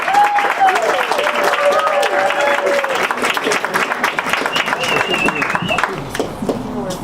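A comedy club crowd at The Stand keeps clapping as a stand-up comedian arrives, loud sustained applause from many hands that thins near the end while someone speaks over it.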